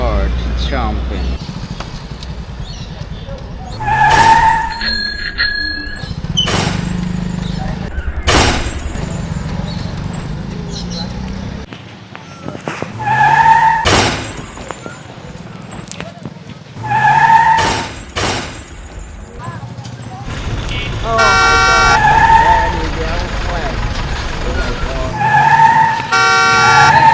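Trucks, auto rickshaws and bikes bouncing over a roadside speed bump, with repeated sharp thuds and rattles among passing engine noise and horn blasts, under excited talk.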